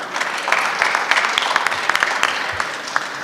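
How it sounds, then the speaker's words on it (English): Audience applause at a Sikh community honor function, a steady patter of claps with scattered sharper hand strikes, moderately loud and close, without speech. "Let us give round of applause for all the diamonds of Sikh community who are present here."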